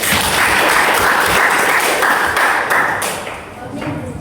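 Students in an Islamic religious education class applaud together, a loud, dense burst of hand claps that holds steady for about three seconds before thinning out and fading.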